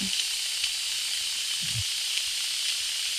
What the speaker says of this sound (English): You can see it and you can hear the steam, but you can't smell it, unfortunately.